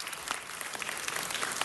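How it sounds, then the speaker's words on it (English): A city council meeting audience bursts into brief, dense applause, many hands clapping at once in an even wash of sound. "So let's give them all a round of applause for all the work they'd like to do."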